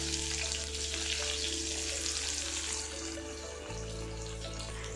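Mustard seeds and shallots frying in hot oil in a kadai, a steady close sizzle with a soft crackling hiss throughout, no talking, and a low background hum shifting partway.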